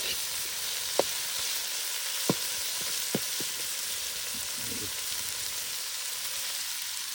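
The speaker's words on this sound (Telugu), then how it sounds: "వీటన్నిటిని బాగా పచ్చివాసన పోయేంత వరకు వేయించుకోవాలి. టమోటాలని బాగా మగ్గనిచ్చుకోవాలి." Tomatoes and other ingredients frying in a pan for a Rayalaseema-style fish curry: a soft, steady sizzle with a few sharp utensil taps, quiet and close, no talking.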